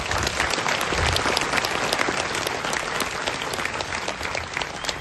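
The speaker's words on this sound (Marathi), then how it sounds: "त्याच्यासाठी एकदा तुम्हाला सर्वांसाठी शिवभक्तांसाठी जोरात टाळ्या होत्या" A large crowd of devotees at a coronation ceremony applauds loudly, dense, continuous clapping close by that holds steady for several seconds.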